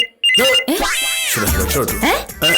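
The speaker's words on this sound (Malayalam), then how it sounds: "ഫോണിന്റെ ബെല്ല് കേട്ടാ വിളിക്കുന്ന ആരാണെന്ന് അറിയാൻ പറ്റുമോ?" A telephone rings in a domestic comedy scene, giving a thin repeating tone at the very start and end, while loud voices talk over the middle.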